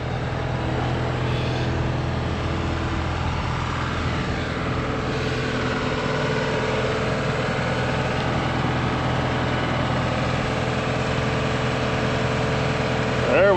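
A CASE CX50D compact excavator's engine idles steadily and quietly, a continuous low hum with faint tonal harmonics that stays close and even throughout, while another machine runs alongside and someone talks over it.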